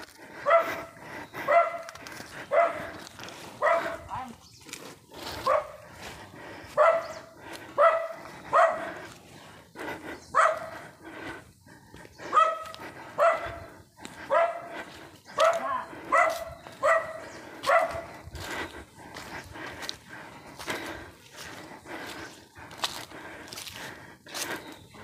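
Dog barking in a hill village, a steady run of sharp, loud barks in uneven bursts repeating close by for most of the stretch, easing off toward the end.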